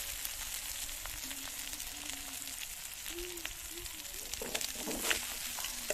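Meat fries in oil in a covered pan with a steady, quiet sizzle, broken by occasional light pops and crackles.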